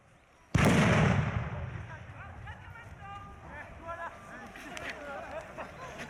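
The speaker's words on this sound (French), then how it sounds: "Attention, grenade!" A grenade bursts with one sudden loud blast that decays into a long rumbling tail. Excited voices and shouts follow nearby.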